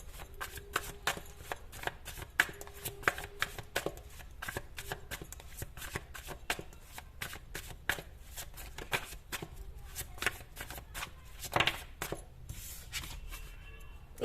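Tarot cards shuffled continuously by hand, a steady run of soft riffling slaps and flicks close up, with no talking.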